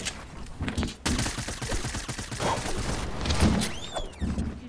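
Rapid bursts of gunfire in the Fortnite video game, loud and close, with sharp shots clustered across the clip and a few mechanical clicks and whirs between them.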